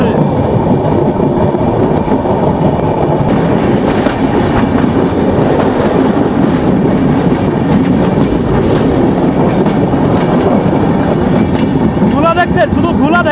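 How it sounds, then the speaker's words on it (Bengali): An intercity Sagardari Express train races along at speed, making a loud, unbroken roar of wheels and clattering carriages, with a brief high, wavering tone near the end. "আমাদের ট্রেন আন্তনগর সাগরদাড়ি এক্সপ্রেস দুর্দান্ত গতি নিয়ে ছুটে চলছে। আমাদের লোকো পাইলট কিছুক্ষণ পরপরই লম্বা লম্বা হুইসেল বাজাচ্ছে।"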